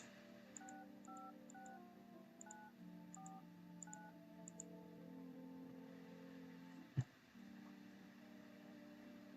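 Phone number keys are pressed in a video game, a sequence of paired dial tones in quick runs over steady game background music, with one sharp click near the end and no speech.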